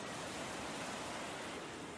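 Sea waves wash onto a beach in a steady, close, broadband rush of surf, with no pauses or voices.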